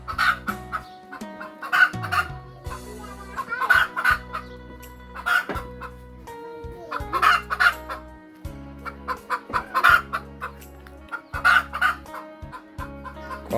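Chickens cluck in a rural village yard of the Bru Mangkong people in the early morning, repeated bursts of close, loud clucking and calls with steady low rumbling underneath, no talk.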